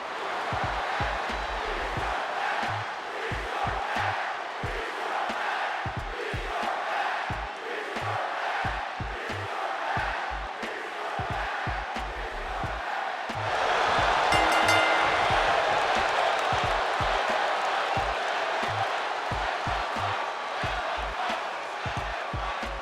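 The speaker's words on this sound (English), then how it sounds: "when a draw does take place, the crowd does feature a couple of different unique chants, one being restart match and another being let them fight" Arena crowd in the WWE 2K22 wrestling video game chanting after a match ends in a draw, a dense, loud, continuous roar with rhythmic thumping beats and a surge of louder cheering midway.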